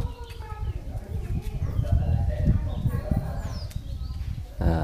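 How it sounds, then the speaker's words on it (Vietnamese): Wild forest birds chirp and call in the background in Măng Cành near Măng Đen, mixed with a steady low rumble and a person talking over them. "Đây, ở đây vẫn nghe chim hót líu lo, chim rừng."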